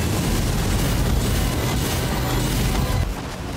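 The flying dragon Agheel in Elden Ring breathes fire, a loud, dense roaring blast that pours out steadily for about three seconds before cutting off abruptly, leaving a quieter rumble.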